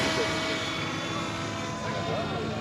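A remote-control model helicopter flying at an airport fundraiser event, a steady loud rotor and engine drone overhead filling the whole moment, with a voice commentating over it.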